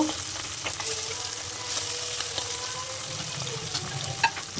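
Hilsa fish pieces fry in hot oil in a pan, giving a continuous close sizzle and crackle with occasional louder pops.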